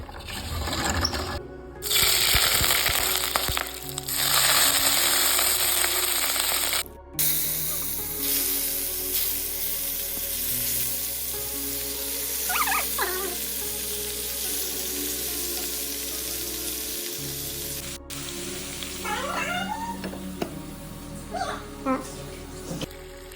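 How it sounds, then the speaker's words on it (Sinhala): Lake fish seasoned with salt, pepper and goraka fries in oil, a steady close sizzle running throughout with occasional clinks and scrapes, while a person talks at intervals over the cooking. "ඊට පස්සේ දැන් තෙල් ටිකක් දාලා මේක බෙද ගන්න යන්නේ."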